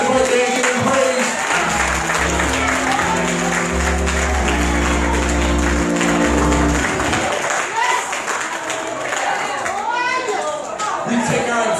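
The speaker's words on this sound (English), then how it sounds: "Clap your hands right there and give him praise." A church congregation at Sunday morning worship claps and cheers in praise, loud and sustained with a lively crowd of voices, organ or keyboard chords and children's chatter mixed in.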